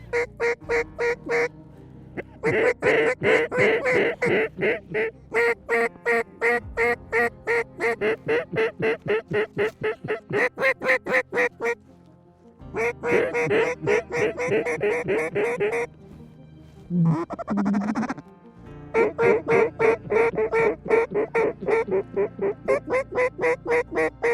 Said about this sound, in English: Some widgeons in there.